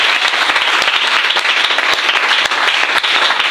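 A church congregation in Conakry applauds the Lord during worship, a dense, loud, continuous wash of many hands clapping with sharper individual claps popping out throughout.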